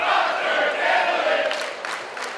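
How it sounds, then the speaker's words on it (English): A large crowd at a Phoenix home game chants together in a dense, sustained roar of voices, loud and continuous with no single speaker standing out. "Chants from the crowd"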